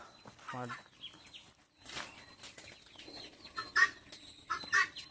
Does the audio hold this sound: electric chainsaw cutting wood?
no